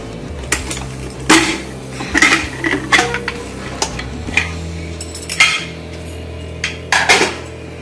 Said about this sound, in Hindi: कुकर ठंडा हो गया है, अब हम इसे खोलकर देख लेते हैं।